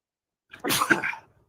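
A single sneeze, close and clear, with a short breathy intake followed by the burst, nothing else around it.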